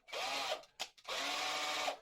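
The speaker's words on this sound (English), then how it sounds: "We're going to get our drill bit in here." Power drill boring into a budget Strat-style electric guitar body during a build, two sustained whirring bursts separated by a brief stop-start blip, close and clear with no talking.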